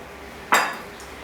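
A spoon knocks once against a bowl or measuring spoon while a tablespoon of cinnamon goes in for sfogliatella dough, a single sharp clink that fades quickly above quiet background hum.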